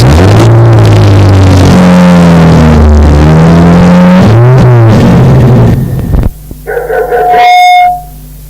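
A car engine drones and shifts pitch as the vehicle drives along on a trip out to a country grazing property, loud and steady for about six seconds before giving way to other sounds, with no talking.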